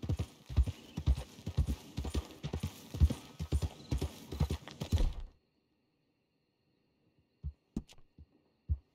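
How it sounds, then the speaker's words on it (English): Horse hooves clip-clop at a steady riding gait for about five seconds in Red Dead Redemption II, then stop, followed by a few isolated hoof thuds after a silent pause. "It's nice, riding like this."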